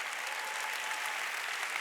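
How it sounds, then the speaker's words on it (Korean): A church congregation applauds during a Wednesday worship service, steady dense clapping that fills the room evenly, alone and without speech. "깨달은 사람만 박수 치라고."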